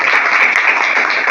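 Students at a school seminar on environment and vegetarianism clap together in a short, dense burst of applause, close and loud throughout.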